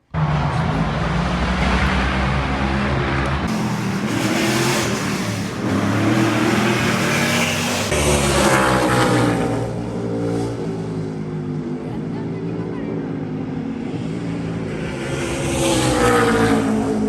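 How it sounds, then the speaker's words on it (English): NASCAR race cars speeding through a downtown Chicago street circuit, a steady loud roar of engines with rising and falling whines as cars pass and accelerate, heard from the crowd at a distance. "wherever you were, you could hear the cars racing"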